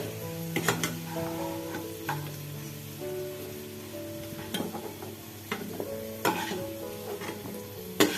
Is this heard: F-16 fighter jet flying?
no